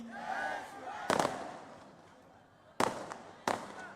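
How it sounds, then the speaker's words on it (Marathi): Firecrackers go off at a Mahayuti election campaign rally in the Mumbra–Kalwa assembly constituency: three sharp, loud bangs, the last two close together, over a steady murmuring crowd. "अरे बाबा फटाके तेवीस तारखेसाठी ठेवा"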